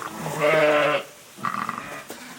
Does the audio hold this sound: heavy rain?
no